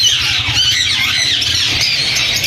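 Ring-necked parakeets squawk continuously at a busy Sunday bird market in Bahawalpur, shrill overlapping calls filling the air over a low steady crowd and cage rumble, with no clear break.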